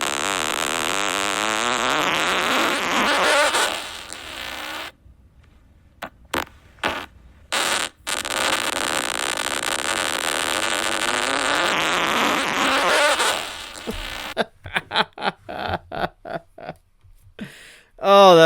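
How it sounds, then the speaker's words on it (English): Long fart sounds processed with auto-tune turn into sustained buzzy pitched tones, broken by bursts of short choppy blasts and brief silences, loud and close throughout. "If you've never heard a fart auto-tuned in your entire life, you could say that you have now."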